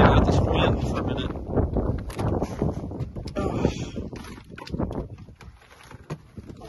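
Cold winter wind at minus four degrees buffets an outdoor microphone in rough, continuous gusts that swell and ebb, loud and close throughout.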